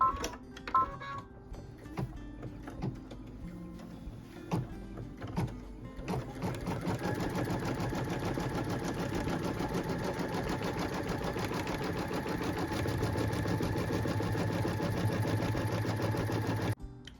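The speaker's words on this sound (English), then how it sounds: "And then we can stitch the tack down line for the fabric." A sewing machine stitches a tack-down line on a quilt, starting with a few scattered clicks and short bursts before settling into a long, steady, close run of rapid stitching.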